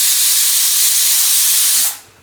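A pressure cooker full of sambar lets off a loud, steady hiss of escaping steam after its whistles, close by and alone, then cuts off abruptly near the end.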